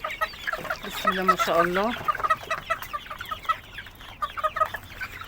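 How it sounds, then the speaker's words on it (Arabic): Free-range farm chickens cluck and squawk close by while being fed food scraps, with busy overlapping calls and one rising drawn-out cry, as someone speaks briefly in Arabic. "هنا لسه بنفتح على الفراخ البلدي، حاطه لهم بواقي الاكل الاول"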